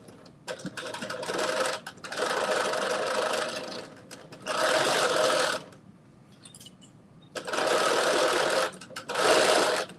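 A Bernette B38 sewing machine stitches a 5/8-inch seam in four separate bursts of rapid whirring, each lasting about one to two seconds. Short quiet pauses fall between the bursts. The machine is heard close up, with no talk.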